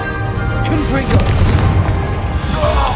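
The Confringo blasting spell in Hogwarts Legacy, a loud booming explosion with a crackling burst and rolling low rumble, close and heavy, amid other spell effects.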